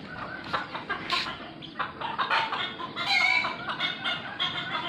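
Chickens cluck steadily at feeding time on a Vietnamese pig-breeding farm, a dense run of overlapping close clucks and calls from several birds with no talk.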